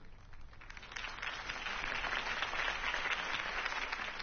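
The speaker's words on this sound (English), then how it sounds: "could have heard that applause" A crowd applauds a campaign speech in a Batman game, the clapping swelling after the first second into a sustained, moderately distant roar of hands.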